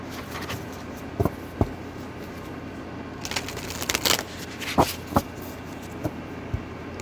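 Tarot cards being shuffled in a few separate bursts of soft riffling and slapping, close by, with quiet pauses between.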